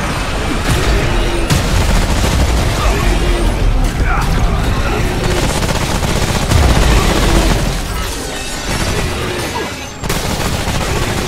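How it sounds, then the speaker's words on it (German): Gunfire in the video game Remnant: From the Ashes, a rapid, continuous clatter of shots and mechanical weapon noise with dull booms, loud and busy throughout and dipping briefly toward the end. "ich werde jetzt auch schießen"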